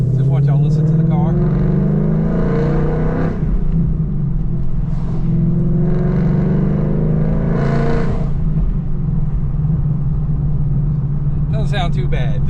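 Engine hum and drivetrain drone from inside a moving car with one window rolled up, a steady low rumble running throughout with intermittent voices or wind rises over it.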